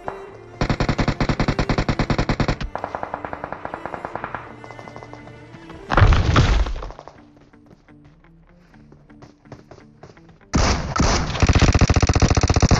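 Automatic M4 rifle fire in a mobile shooter game, loud, fast-rattling bursts at close range, separated by quieter stretches with single cracks and softer game sounds.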